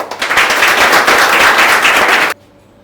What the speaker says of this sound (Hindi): मुकेश जी के लिए अच्छे से ताली लगा दीजिए